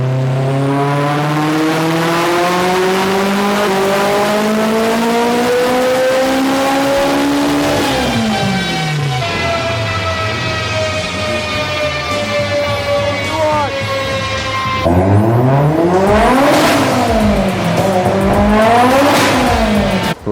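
A tuned turbocharged Mitsubishi Lancer Evolution X of about 800 horsepower accelerates hard and loud on a highway, engine pitch climbing steadily through the gears, with shifts and renewed pulls near the end.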